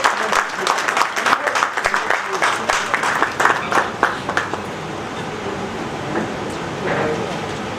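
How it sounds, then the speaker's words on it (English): Audience at the ICC MSME Conclave in Jammu applauding the chief guest, Lieutenant Governor Manoj Sinha, with a burst of loud, fairly dense clapping that fades to a murmuring room after about five seconds. "Ladies and gentlemen, please give a round of applause."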